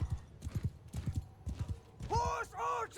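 Galloping hooves of horse archers in the battle game Mount & Blade II: Bannerlord thud in quick clip-clop bursts, followed by a loud horse whinny near the end, with a voice speaking over parts.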